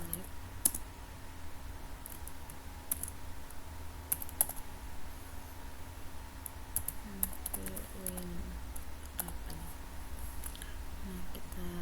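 Typing on a computer keyboard, a steady run of close light key clicks throughout, with a voice speaking faintly in the background partway through.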